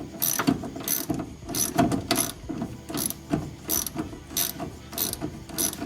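A ratchet tightens sway bar bolts on a car, giving repeated bursts of quick clicking strokes with brief pauses between them, close and clear.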